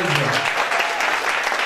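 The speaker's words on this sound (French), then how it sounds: "Une autre belle applaudissement pour la première étape." A conference audience applauds, dense steady clapping filling the short stretch close and loud, with a voice faintly under it at the start.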